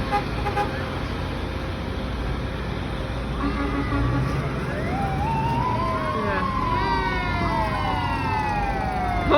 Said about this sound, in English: would you look at that? A vintage fire engine.